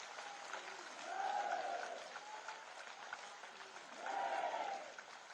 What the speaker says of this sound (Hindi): एक बार सभी हाथ उठाकर तालियां बजाकर हमारे देश के सेना के जवानों का अभिनंदन किया जाना चाहिए